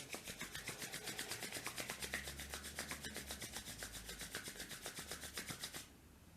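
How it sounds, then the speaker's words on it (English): Two palms rub together in a quick, even back-and-forth rhythm, producing a dry, raspy swishing close to the ear that repeats steadily for several seconds before stopping into near silence. "When you're ready, gently open your eyes. Rub your hands together."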